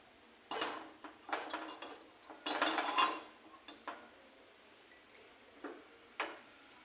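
A metal cooking pot clanks and scrapes as it is set down on a gas stove in a home kitchen, giving several close, sharp knocks and rattles with quiet gaps between them.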